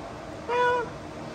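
A large gray cat gives a single short, clear meow from inside a pet drying cage, rising out of the steady hum of the dryer.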